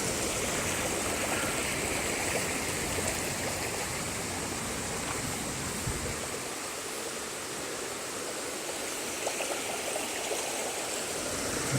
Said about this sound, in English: This water is running down back into the river.